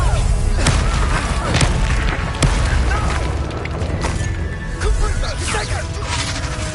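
Incendio fire spell blasts in Hogwarts Legacy, loud booming bursts and thuds in a dense battle din, several sharp impacts spread across the stretch, with voices shouting among them.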